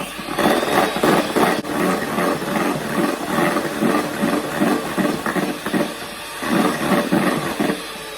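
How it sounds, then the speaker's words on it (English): An electric mixer whisks cake batter for a gluten-free Swiss roll, giving a loud, close, pulsing whir with a regular rhythm of beats that dips for a moment and then resumes. "you want to just continue whisking until it's more, paler than this"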